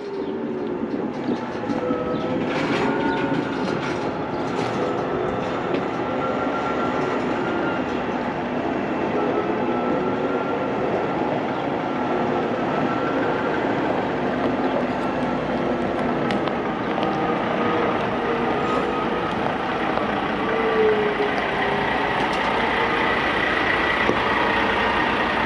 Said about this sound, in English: A big green truck, let's put it that way.